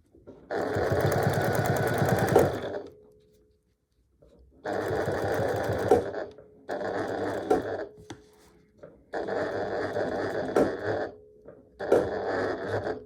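A sewing machine stitches a square pot holder in five separate runs of rapid, even whirring, each a second or two long, with short pauses between them.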